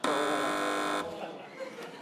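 A loud, harsh buzzer on a TV panel quiz show blares for about a second, then cuts off, leaving murmuring studio audience noise behind it.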